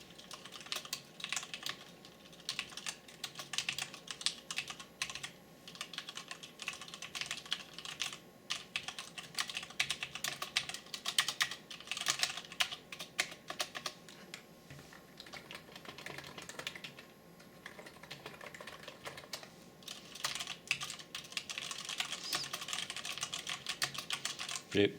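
Rapid, steady typing on a Cooler Master mechanical keyboard with Cherry Red switches, a close, continuous patter of soft key clicks with brief pauses and no talking.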